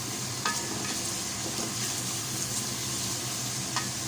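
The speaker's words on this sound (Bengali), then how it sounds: "এখন একটু মশলাটাকে কষিয়ে নেব" Spice paste frying in a pan, a steady dense sizzle with a few light clinks of a stirring utensil against the pan. There is no talking.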